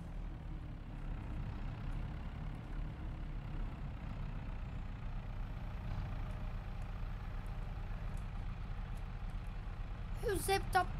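Truck engine idling in a multiplayer farming video game, a low steady rumble held throughout at moderate level, with a brief clatter near the end.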